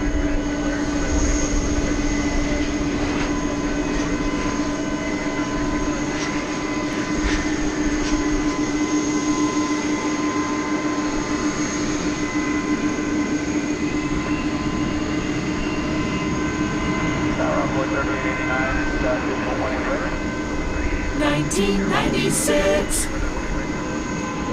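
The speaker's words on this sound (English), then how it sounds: "We got there a 29-year-old example of the MD-11 aircraft." A 29-year-old MD-11 jet at DFW Airport at night rumbles steadily with a constant engine whine and tonal hum, loud and unbroken throughout, with faint clicks near the end.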